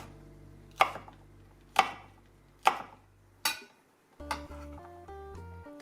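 A knife chops green chili on a board in four sharp, evenly spaced strikes, followed by soft clinks of kitchenware.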